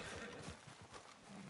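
Horse in the game Red Dead Redemption 2 giving a quiet, faint whinny mixed with hoof sounds and ambient noise.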